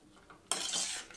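Strawberries and sugar stirred in a pot, a spoon scraping and clinking against the metal in a close, bright burst of stirring after a quiet start.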